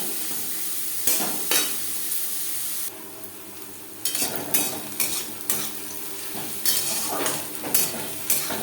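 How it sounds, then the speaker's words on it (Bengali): Onions frying in a pan for Bengali-style red spinach (lal shak), a steady hiss of sizzling broken by repeated scrapes and stirs of a utensil against the pan, close and alone with no talking. "পেঁয়াজ লালচে করে ভেজে নেব।"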